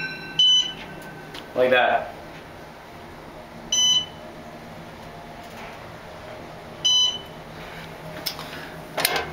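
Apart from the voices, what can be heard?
elevator alarm beeping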